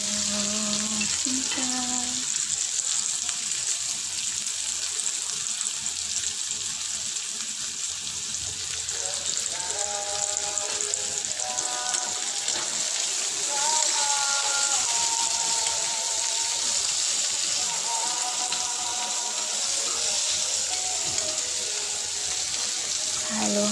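Sliced bitter gourd (ampalaya) sizzles steadily in a hot pan as it is stirred, a continuous bright frying hiss with faint scraping and light clinks throughout.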